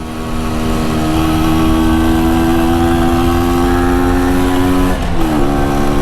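MZ TS125 motorcycle engine held high near the red line on a track, a loud steady two-stroke drone with a brief dip and pitch shift near the end, no talking.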